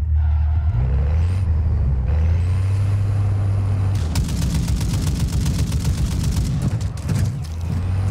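A sentry gun firing in the shooter game Warzone 2.0 DMZ, a rapid burst of evenly spaced shots in the second half over a loud low vehicle-like hum and hiss.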